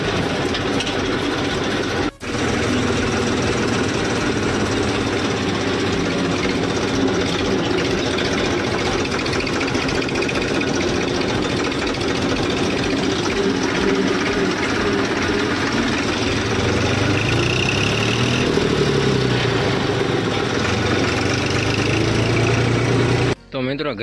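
A tractor engine runs steadily outside a house after farm work, a loud, close, continuous rumble lasting the whole stretch with no pauses.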